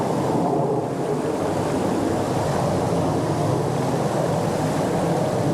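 Nantcol waterfall cascades in Snowdonia, Wales, pour in a loud, steady, unbroken rush of water heard close by, with no voices.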